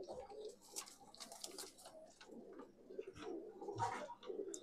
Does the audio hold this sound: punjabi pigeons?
yes